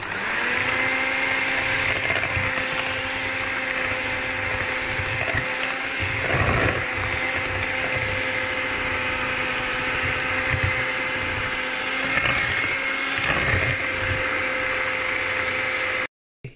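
An electric beater whisking four large eggs with caster sugar, a loud, steady motor whine with a constant hum and brief dips in tone as the bowl is worked, running unbroken for the whole stretch and stopping abruptly at the end.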